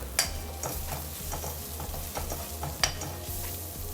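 Onions sauté in a pan with spice powders including ground black pepper, giving a quiet steady sizzle with soft regular taps and scrapes of a spoon stirring.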